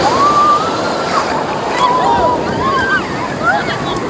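Sea waves wash steadily onto a Konkan coast beach, a continuous loud surf roar mixed with wind buffeting the microphone, while people's voices and cries rise faintly over the water.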